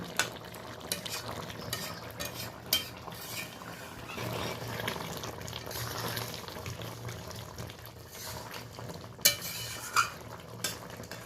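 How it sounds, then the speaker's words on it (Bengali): Potato, potol and large shrimp curry scraped from a cooking pot into a bowl: quiet wet sloshing and bubbling with a few sharp spoon clinks against metal, close and fairly faint. "এবার আমি একটা পাত্রে ঢেলে নেব।"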